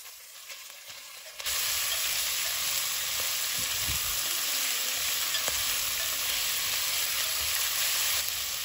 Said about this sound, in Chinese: 现在就可以下入猪肚来进行煸炒啦。